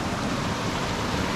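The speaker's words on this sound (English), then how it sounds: "We found the waterfall." Rushing water from a waterfall on a Tucson hiking trail, a steady broadband roar, close and constant, alone without voices.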